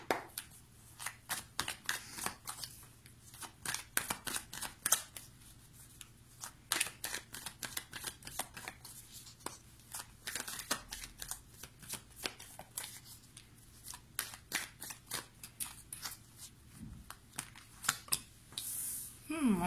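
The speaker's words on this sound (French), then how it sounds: "je vois que mes cartes, elles sont mélangées" Tarot cards are shuffled over and over in a quiet room, giving a steady run of crisp riffling and flicking bursts with short pauses between them, close and fairly soft.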